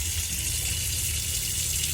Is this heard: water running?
yes